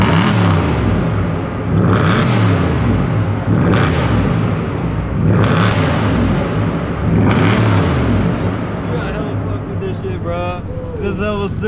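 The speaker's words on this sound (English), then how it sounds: "Yeah, bro, just rev it." A Ford Mustang engine revs repeatedly. Each rising roar swells and falls in a steady cycle about every couple of seconds, loud and close, while people talk over it.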